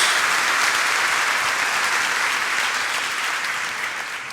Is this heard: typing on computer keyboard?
no